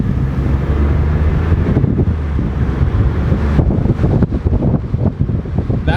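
Engine and turbo of a 2019 Ford Expedition Limited heard with the windows cracked, a loud steady rumble under heavy wind rush that builds as the truck accelerates.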